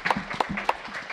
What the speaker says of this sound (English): You can applaud for that, that's okay.